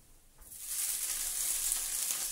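Oil bursts into a steady, loud sizzle as frying starts in a pan with olive or vegetable oil, hissing continuously after a quiet moment.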